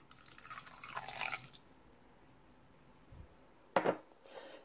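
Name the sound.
pouring vinegar by the tablespoon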